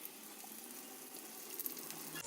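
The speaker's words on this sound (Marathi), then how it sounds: "आपलं तेल गरम झालं की आपण ह्याच्यात बारीक चिरलेला कांदा घालायचा आहे आणि त्यातच आपण कढीपत्ता घालणार आहोत" Chopped onion and curry leaves sizzle in hot oil as a steady, quiet hiss with faint crackles, continuous and alone.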